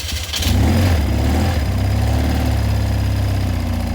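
A 1988 BMW R100 GS Paris Dakar motorcycle's boxer engine running steadily nearby, with a low, even idle throb after a brief start, sounding smooth and fairly quiet, with no talking.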